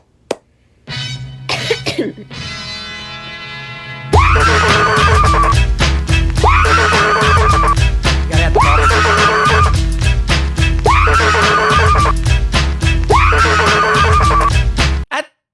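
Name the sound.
woman screaming in a viral video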